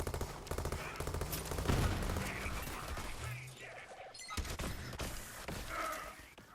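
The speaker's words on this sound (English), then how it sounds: "just how much damage this Atlas pistol is capable of when paired with this build" Rapid gunfire from an Atlas pistol in the video game Borderlands 3, a dense burst of repeated shots with a steady rhythm, loud and close, with brief pauses and in-game effects mixed in.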